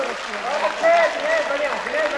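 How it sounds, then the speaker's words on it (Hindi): Audience applause at a Hindi kavi sammelan poetry recital, a loud continuous patter of clapping from a crowd with a voice speaking over it. "तालियां बजाओ यार"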